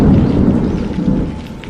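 Thunder rolls in a cartoon story's night rainstorm, a loud, deep rumble sustained throughout the short moment without any talking.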